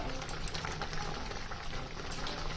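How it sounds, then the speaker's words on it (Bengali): Bengali fish roe fritter curry gravy boiling in a pan, a dense steady bubbling and simmering hiss, close and continuous throughout, with no one speaking over it. "ঝোলটা ভালো মতো ফুটে গেছে"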